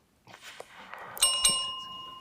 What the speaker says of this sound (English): And the bell signals the end.